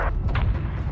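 An explosion impact in Call of Duty: Modern Warfare II: a short, muffled, heavy boom with a low rumble that rolls across the whole second.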